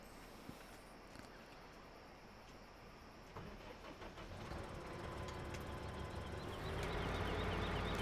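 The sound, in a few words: tractor engine starting up in a farming video game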